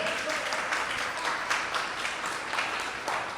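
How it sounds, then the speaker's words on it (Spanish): Dense, steady applause from a seated audience at a panel discussion marking forty years since Pope John Paul II's visit to Sagrado, filling the room at an even volume for a few seconds without voices on top. "Aplauso, please."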